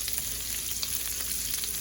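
Potatoes frying in a pan over medium-low heat for a burrito, a steady, close sizzle and crackle throughout with no talk.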